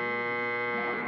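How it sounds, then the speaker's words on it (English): A single sustained game show buzzer from a 1965 television panel quiz sounds as a steady, harmonically rich electric drone lasting about a second, loud and alone with no talk over it. "a very quick buzzer that time"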